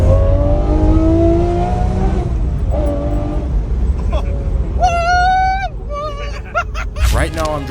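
Car engine humming low and steady while driving on a long road trip, with road rumble throughout and a voice talking over the drive in the second half.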